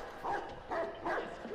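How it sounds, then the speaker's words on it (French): Dogs in the open-world game Watch Dogs 2 give three short bursts of barking and yipping, close and fairly loud, with faint background noise between them. "il y a des chiens ici ou quoi?"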